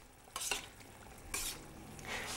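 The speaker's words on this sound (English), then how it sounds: "We'll give that a stir." Tomato sauce with fresh basil is stirred in a pan, giving three soft scraping swishes over a quiet simmering hiss.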